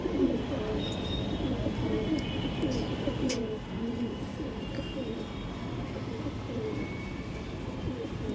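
Male and female pigeons coo in a low, continuous murmur of overlapping calls, with a faint background hum and occasional higher chirps.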